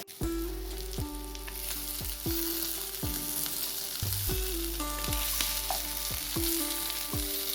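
Sardines (mathi) fry in a pan with curry leaves, giving a steady, loud, close sizzle throughout. Repeated sliding tonal sweeps ride over it, and no one speaks.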